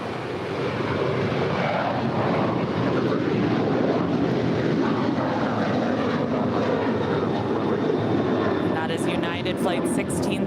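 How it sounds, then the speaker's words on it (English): A Boeing 737-900ER airliner at LAX roars loud and steady with broad jet engine rumble, while a voice talks over it. "Flight 1635 heading to Washington Dulles. It's an 8-year-old 737-900ER."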